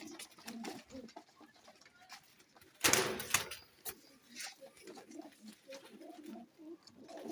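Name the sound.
pigeons cooing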